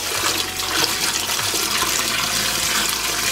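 Water pours steadily from a tap into a container to make a salty dye bath for tie-dyeing a T-shirt, a close, even splashing rush that continues throughout with no talk.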